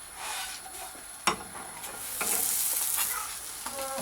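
Khychin, a Caucasian stuffed flatbread, frying in a pan: a continuous soft sizzle with a few sharp clicks and scrapes of a utensil against the pan, close and moderately loud, without talk.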